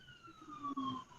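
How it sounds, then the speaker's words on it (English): Emergency sirens wailing in a street in a medical district, faint and distant, a brief gliding tone heard alone. "sometimes the sirens get a little bad"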